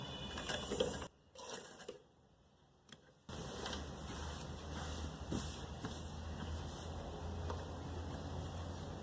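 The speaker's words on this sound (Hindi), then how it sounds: "2-3 टांके लेके हम फिर यहाँ से इस तरीके से डोरी को फिक्स करते हुए सिलाई करेंगे" A sewing machine stitches a drawstring into trousers with a quiet, continuous mechanical whir, broken by a brief pause before it runs on steadily.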